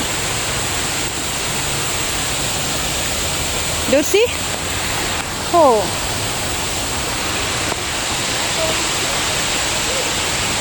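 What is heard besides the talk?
waterfall in a forest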